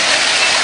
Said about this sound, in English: I'm down on their dock reviewing this magnificent waterfall